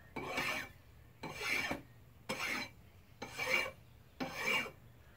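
A hand file rasps across a front differential part from a 1999–2006 GMC/Chevy truck to remove burrs, five even back-and-forth strokes close up with quiet pauses between them.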